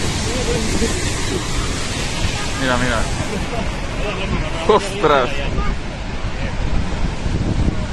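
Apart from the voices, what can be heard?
rushing river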